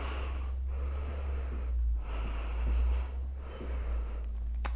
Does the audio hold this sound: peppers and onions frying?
no